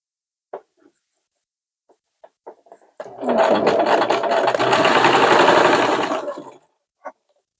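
A sewing machine stitches trouser fabric in one close, loud whirring run of about three and a half seconds, preceded by a few small clicks and taps and ending with a single click.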